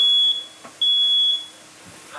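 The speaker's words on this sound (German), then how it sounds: "Ist das der Rauchmelder?" Smoke detector gives two sharp, piercing high-pitched beeps, each about half a second long and close by, separated by a short gap, followed by faint room noise and a brief voice.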